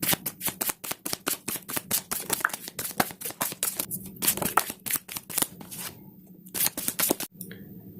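Tarot cards shuffled by hand, a steady run of crisp riffling and flicking bursts, close and fairly loud, with short pauses near the end.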